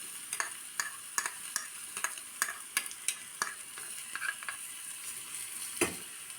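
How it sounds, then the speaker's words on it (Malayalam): Crushed spice mix frying in hot oil with curry leaves and a spoon stirring it around the pan, giving a steady sizzle punctuated by regular scraping clicks, close and clear, with no talking. "ഇനി ഇതിലേക്ക് മിക്സിയിൽ ചതച്ച് വെച്ചിരിക്കുന്ന കൂട്ട് ചേർത്ത് കൊടുക്കാം"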